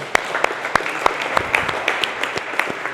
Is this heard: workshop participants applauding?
yes